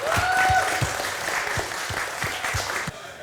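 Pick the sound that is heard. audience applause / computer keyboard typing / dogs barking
audience applause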